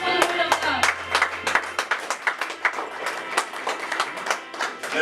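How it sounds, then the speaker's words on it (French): At a church service a congregation claps for the word of God, lively rhythmic applause with many overlapping hand claps, fairly close, while a voice speaks over it briefly. "Clap for the word of God."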